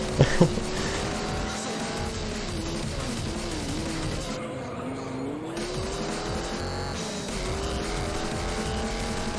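Non-turbo car engine in a racing video game, steady revving drone with shifting pitch as gears change, tire squeal mixed in, a brief bump near the start, constant and moderately loud.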